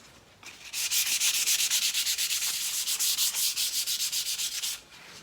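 Hand sanding a wooden console table with a light pass for a weathered look: a steady run of rapid, rhythmic scratchy strokes, close and fairly loud, starting after a short pause and stopping just before the end, with no talking.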